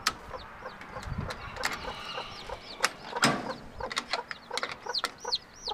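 A mother hen clucks among her new chicks, with low repeated clucks under a busy stream of high, sharp chick peeps and a few clattering knocks, close by with no talking.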